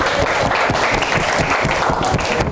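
Students in a vocational high school classroom in Balikpapan applaud after a group presentation, a dense, steady patter of many hands clapping close by, continuous and even in loudness throughout.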